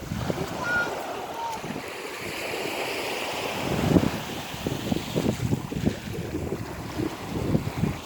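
Sea water and waves at a Black Sea holiday village, a steady wash of surf with gusty wind buffeting the microphone, continuous and fairly loud with no clear talk.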